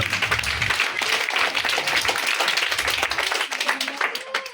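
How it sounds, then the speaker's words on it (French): Children applaud at a ceremony where school kits are handed out, a dense, steady patter of many hands clapping close by, mixed with voices and crowd chatter throughout. "vous-même les enfants qui avez effectué le déplacement, applaudissez pour vous."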